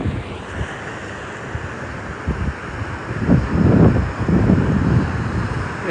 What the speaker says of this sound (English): Sea's a bit rough.